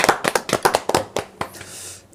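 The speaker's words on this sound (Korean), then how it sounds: "박수 한번 우리 하고 또 하십시다." A small audience at a Seoul housing welfare debate gives a short round of applause, about a dozen sharp, fairly close claps in quick succession that thin out and fade within two seconds.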